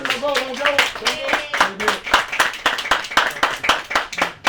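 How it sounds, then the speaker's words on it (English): Audience clapping at a film festival Q&A session in New York, a steady round of applause lasting several seconds with a voice or cheers mixed in near the start. "Round of applause"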